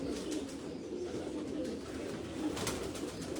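Golden pigeon cooing on a rooftop loft, a soft steady low murmur with faint rhythmic pulses, continuous and fairly close.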